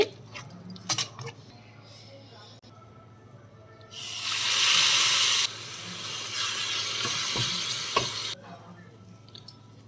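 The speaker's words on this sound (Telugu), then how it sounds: "ఇప్పుడు పోపు ఇందులో వేసేసుకుందామండి." Hot tempering poured into gongura and amaranth leaf curry bursts into a loud sizzle that hisses for several seconds before fading, with scattered kitchen clinks around it.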